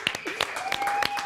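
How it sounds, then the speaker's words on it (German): A studio audience applauds as Cecily is welcomed onto a German TV show, clapping picking up over a music bed with a host's voice speaking across it. "Applaus für Cecily."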